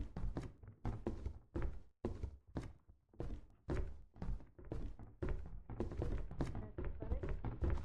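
Running footsteps in the video game Lethal Company, a steady rapid patter of thudding steps, close and fairly loud, continuing throughout.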